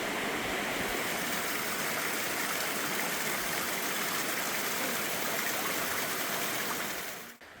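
A mountain stream in the shaded forest valley of Gucheon-dong, Muju, rushes in a steady, dense wash of flowing water that continues unbroken before fading at the very end.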